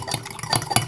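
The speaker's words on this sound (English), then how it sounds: "Stirring that in." Sour cream being stirred into pancake batter in a bowl, giving a short, close, wet scraping and sloshing with a few quick strokes and no talk.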